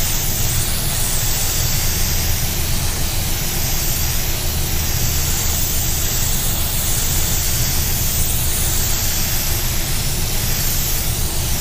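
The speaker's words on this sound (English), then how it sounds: "I'm trying to spray straight up and down so I don't overspray too far out into the panel" A spray gun applying paint to a sunburst-finished panel, giving a steady, continuous close hiss that holds evenly throughout without breaks.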